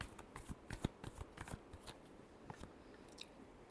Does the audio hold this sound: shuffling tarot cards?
yes